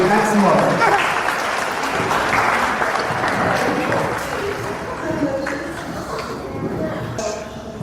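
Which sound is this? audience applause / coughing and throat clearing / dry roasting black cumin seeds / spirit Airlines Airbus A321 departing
audience applause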